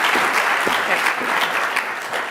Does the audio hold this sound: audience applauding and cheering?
yes